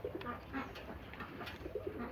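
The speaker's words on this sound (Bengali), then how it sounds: "আর এগুলিও সিরাজি কবুতর একটা কালো সিরাজি আর একটা লাল সিরাজি" Sirajee pigeons, one black and one red, cooing nearby in a farm loft, soft repeated throaty coos in short phrases over a quiet background.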